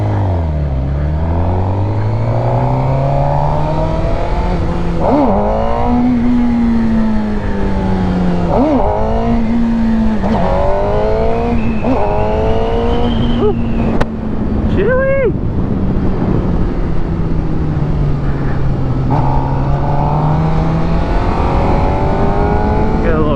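Suzuki GSX-R 600 motorcycle being ridden, its engine loud and close, droning and rising through gear changes over constant wind rush.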